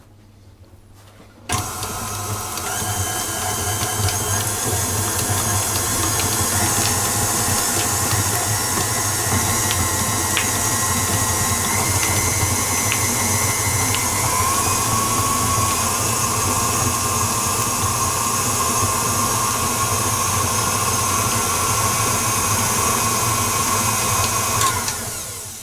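Electric stand mixer creaming soft butter for a caraway seed cake, a steady motor whir that starts abruptly and runs continuously at even loudness, with no talk.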